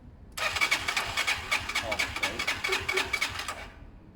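A Zontes Mantis 125cc motorcycle engine bursts into life with the choke on and fuel off, crackling and spitting in fast uneven pulses for about three seconds before cutting out, close and fairly loud.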